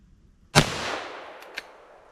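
A single loud .357 Magnum revolver shot, sharp crack with a decaying echo tail, followed by a couple of faint clicks.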